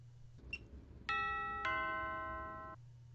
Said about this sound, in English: we should hear a doorbell